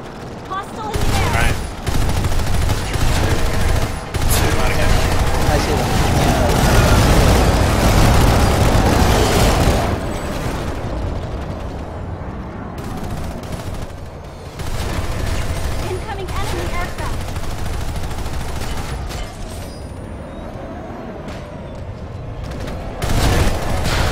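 Gunfire during an aerial squad battle in a video game, dense bursts of shots and booming blasts packed together over the first half, then easing into quieter, sparser firing with brief sharp pops.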